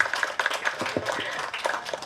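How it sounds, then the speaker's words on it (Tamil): A crowd applauds at a Tamil film audio launch event, a dense, steady patter of hand claps from a sizeable audience, moderately loud throughout. "மக்களை கரகோஷங்கள்."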